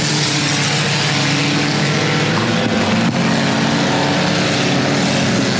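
Four-cylinder race cars in a heat race on the Timberline Speedway oval, a constant loud roar of several engines at once, steady and droning throughout with no gaps and no voices.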